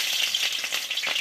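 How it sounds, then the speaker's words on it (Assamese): Onions sizzle in hot oil over a medium flame while a chicken curry is prepared. The crackling hiss is close, steady and moderately loud, and no one talks. "আৰু পিঁয়াজখিনি অলপ ভাজ খাবলৈ দিলে ভাল"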